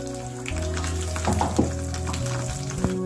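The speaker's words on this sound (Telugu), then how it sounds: "ఒక 6 ఎండుమిరపకాయలు వేస్తున్నాను. ఆవాలు కొద్దిగా వేస్తున్నాను." Dried red chillies and mustard seeds sizzle and crackle in hot oil in a pan, a close, continuous frying hiss with small pops and a few stirring scrapes.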